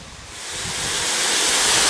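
Waterfall on Prairie Creek at Big Woods State Park, a steady broadband rush of falling water that swells slightly louder over a couple of seconds, with no voices.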